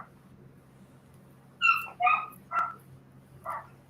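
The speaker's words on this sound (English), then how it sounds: "Along with complaining dogs." Several dogs give a handful of sharp barks and yips at moderate distance, spaced irregularly over a low steady hum, with no talking.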